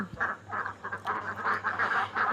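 Farm-kept egg-laying ducks quacking in a quick series of short, nasal calls that repeat almost without pause, fairly faint and close, over a low background hum with no talking.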